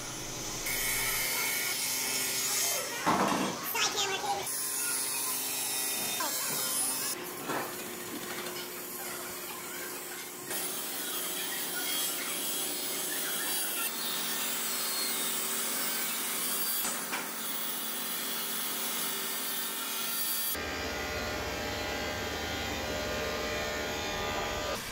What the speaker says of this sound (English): I've put it onto a crosscut sled on a table saw, and I'm cutting out some of the larger pieces